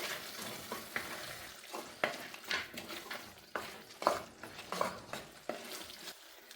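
Pre-cooked beef being stir-fried in a pan for Kerala-style beef curry: a soft, steady sizzle broken by irregular scrapes and clinks as it is stirred, fairly quiet, with no talking.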